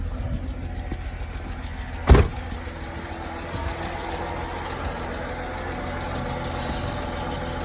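A 2005 Mercedes-Benz C230 Kompressor with a supercharged engine and many fault codes idles steadily at close range, a low continuous hum with one brief louder knock partway through and no talking.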